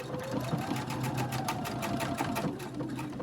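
A sewing machine stitches a fabric face mask in a steady, close, rapid mechanical chatter that runs without pause, with no talking.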